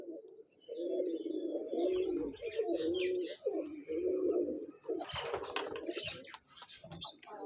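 Pigeons coo steadily in low rolling bursts, with bird chirps and some rustling and flapping noise. These are long-boned, tight-jointed flying pigeons offered for sale at a pigeon club in Chishtian.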